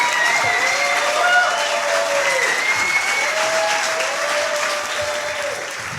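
An audience at a live storytelling show gives a standing ovation: dense, loud, sustained applause from a large crowd, with a few whistles riding over it, slowly fading toward the end.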